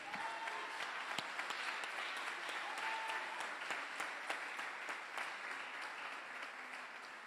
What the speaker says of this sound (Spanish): ¿Qué le parece si le damos un aplauso al Señor?